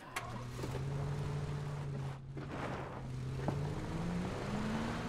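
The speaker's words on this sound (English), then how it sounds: "There's a car trying to beat us here." A car in the video game PUBG drives nearby, its engine a continuous droning hum that rises slightly in pitch toward the end, moderately loud over faint background game noise.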